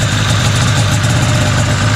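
A Polaris Indy Sport 340cc snowmobile engine idles close by with a steady, even, throbbing rumble that holds constant throughout.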